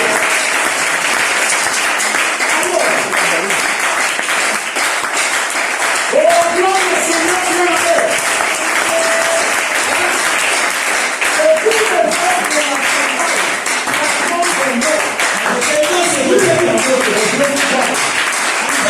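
A church congregation in Brazzaville applauds in a long, sustained wave of clapping, dense and steady for nearly twenty seconds, with scattered voices and cries rising over it.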